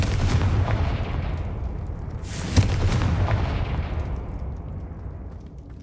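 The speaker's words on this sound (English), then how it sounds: "看那雕像快被我轰烂了" A loud Confringo blast strikes a statue in the Hogwarts Legacy game, giving a sharp booming burst midway over a dense rumbling explosive roar that slowly fades.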